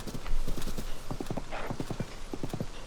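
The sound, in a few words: horse hooves clip-clopping in video game Zelda Tears of the Kingdom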